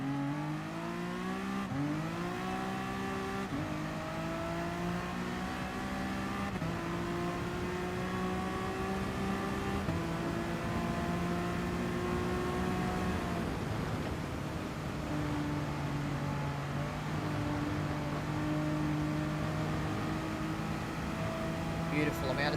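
Race car engine in GT Sport at a race start, a loud continuous high-pitched roar whose revs climb and drop through gear changes, with a voice talking over it almost the whole time.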